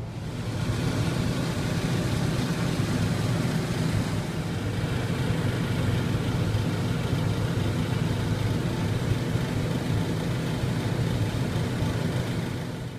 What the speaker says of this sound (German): Der Wagen ist voll, sofort nach Hause fahren.